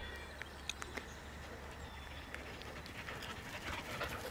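Exhausted dogs pant on a farm property after a walk, quick faint rhythmic breaths over a steady low hum, with occasional soft clicks and birds in the background.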